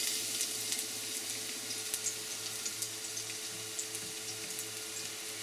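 Chopped garlic sautéing for tuna sarciado, a steady close sizzle of small pieces frying in oil in a pan, with faint scrapes of stirring running through it and no talking.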